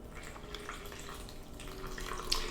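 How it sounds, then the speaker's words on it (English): Water poured into the top of a cold brew pitcher over coffee grounds, topping it up toward one litre; a steady close pouring and trickling wash that runs throughout, with a few brighter splashy moments near the end. "I'm going to pour some water in the top, and I'm going to fill it up"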